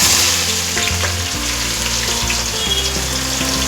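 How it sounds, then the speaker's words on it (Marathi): Finely chopped onion frying in hot oil with spices for chicken biryani, a loud, dense, continuous sizzle that carries on without pause from start to finish. "आता आपण ह्याच्यात बारीक चिरलेला कांदा टाकणार आहोत"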